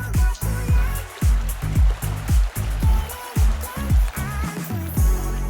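Water pouring into a glass-walled backyard pool, a rhythmic series of gurgling splashes and bubbling pulses repeating roughly twice a second, close and fairly loud.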